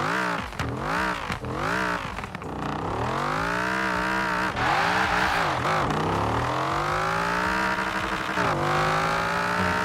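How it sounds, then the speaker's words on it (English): A fast race car in a driving game screams through the gears, its engine revving high and dropping sharply between shifts, loud and close with continuous rising sweeps and no talk. "But we want to hear the car."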